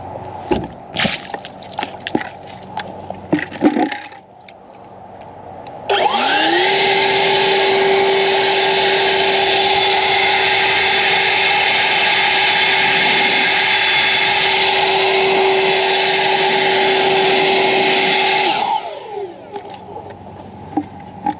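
EGO 56V cordless leaf blower fitted with a drying nozzle roars loudly and steadily for about twelve seconds, spinning up with a rising whine and winding down at the end, with quieter handling noises before and after.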